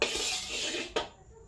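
Sizzling from gourd being stir-fried with egg in oil in a wok over a gas flame, a steady hiss that is cut off by a single metallic clank, then quiets to a faint background.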